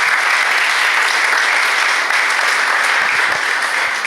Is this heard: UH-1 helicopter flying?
no